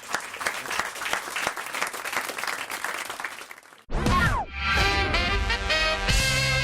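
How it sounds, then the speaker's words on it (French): A theatre audience claps in a dense, sustained round of applause that swells and then fades before loud music cuts in abruptly and carries on to the end. "on vous applaudit en tout cas"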